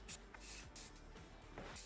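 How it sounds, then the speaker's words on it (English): Spray paint hissing in short bursts onto a small backyard tractor, several quick sprays with brief pauses between, close and fairly soft. "Spray painting the tractor continued"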